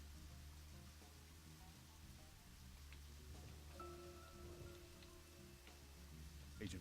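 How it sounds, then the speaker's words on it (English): Steady rain falls in the Deadly Premonition game world, a soft, continuous hiss with faint droplet taps, sitting low and constant beneath a quiet, droning background. "Oh good, it's raining."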